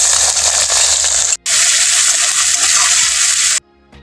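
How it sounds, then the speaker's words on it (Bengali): Chopped onion sizzles loudly in hot oil, a dense close hiss that cuts out briefly, resumes, then stops abruptly near the end. "তেল গরম হয়ে গেছে এখন আমি দিলাম পেঁয়াজ কুচি"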